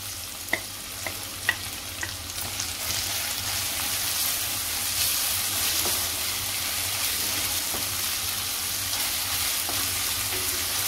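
Onions and ginger-garlic paste frying in a pan for a soya chunks masala, a continuous bright sizzle with a few early clicks of a spoon against the pan, then an even hiss with no talking.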